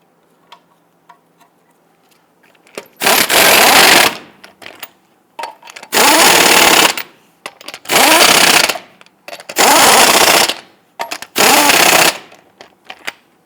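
Five bursts from an impact tool snugging down wheel lug nuts on a 2000-2006 Toyota Tundra, each lasting about a second, loud and close, with short quiet gaps and faint clicks between them.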